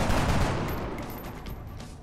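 A burst of rapid gunfire aimed at an alien in XCOM: Enemy Unknown, loud and sustained across the whole short moment, slowly tapering off.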